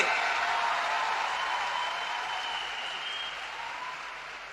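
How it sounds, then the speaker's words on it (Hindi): Sustained applause from a large crowd, steady and dense, fading slightly toward the end. "तो एक बार जोरदार तालियां देश के प्रधानमंत्री नरेंद्र मोदी जी के लिए।"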